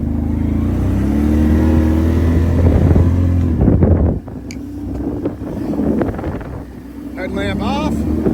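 ATV engine riding down a bush trail at night, a steady droning motor with wind buffeting that drops away partway, while a person talks over it.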